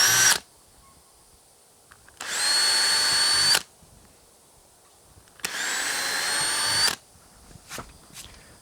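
Power drill driving thin half-inch screws into a wood partition wall in a van build, three short whirring bursts, the first clipped at the start, separated by quiet pauses with light handling noises.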